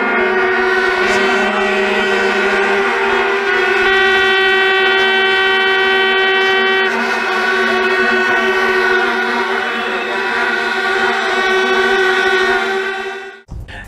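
Vuvuzela horns blown by a crowd of soccer fans in South Africa: a dense, loud, continuous buzzing drone of many horns at once, holding steady for nearly fourteen seconds before cutting off abruptly, with no talking.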